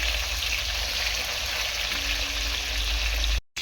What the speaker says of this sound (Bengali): দুদিকটাই খুব ভালোভাবে ভেজে নেব। একটুখানি কড়া করেই ভাজবো।